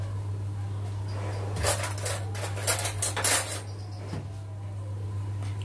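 A spoon stirs and scrapes onions and peas in a metal pot, giving a cluster of close clinks and scrapes against a steady low hum, with no talking.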